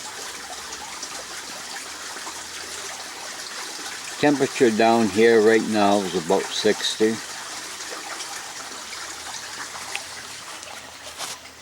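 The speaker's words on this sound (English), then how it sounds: "You're not going to be able to see the water, but you can hear it." Water trickles steadily underground among hand-placed stones in a ravine, a soft continuous wash heard throughout, while someone talks close by over it for a few seconds in the middle.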